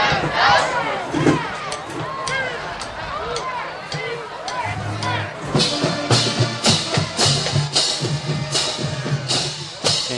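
Crowd of Cape Vikings fans cheering and shouting at a high school football game against Sussex Tech, a loud, sustained roar with whoops and rhythmic bursts of yelling throughout.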